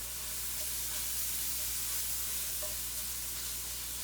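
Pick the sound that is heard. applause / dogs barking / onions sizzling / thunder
onions sizzling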